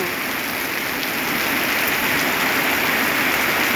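Heavy winter rain pours down in Lampang, a dense, steady hiss of drops on surfaces filling the air at constant loud volume, with no voices.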